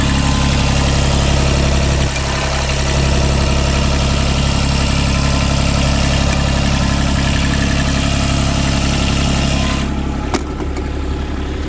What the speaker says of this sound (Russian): Давайте сейчас открою капот, дам послушать, как это все работает.